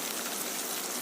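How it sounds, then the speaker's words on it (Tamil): Tomato, onion and green chili sautéing in a pan, giving a steady, even sizzle and crackle throughout with no talking over it. "இப்போ இது நல்லா வதக்கிக்கலாம்."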